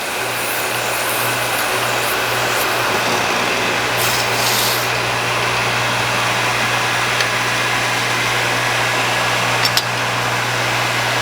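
A machine polishes an engine lifter held in a chuck after grinding, giving a loud, steady whirring hum with a constant low drone that runs unbroken the whole time.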